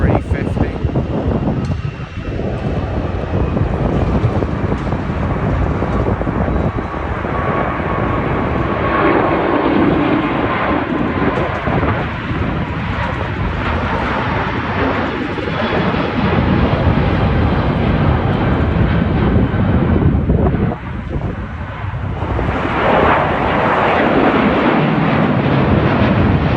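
A British Airways Airbus A350 airliner at London Heathrow, a sustained loud jet roar with wind-like rushing that dips briefly a couple of times and then swells again, near and continuous.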